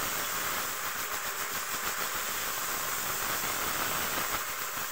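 Green chili sizzling in hot oil in a pan with onions, a steady loud broadband hiss and crackle filling the whole stretch without pause.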